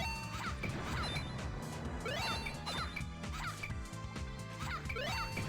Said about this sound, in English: We gotta play Whack-A-Mole.